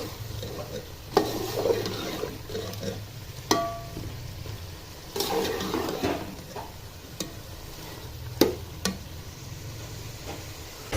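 Chicken is stir-fried bhuna style in a pot for a Pakistani chicken salan. Soft sizzling runs under repeated scraping and clinking of a spoon against the metal pot.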